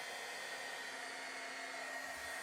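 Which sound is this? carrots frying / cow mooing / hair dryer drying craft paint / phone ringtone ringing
hair dryer drying craft paint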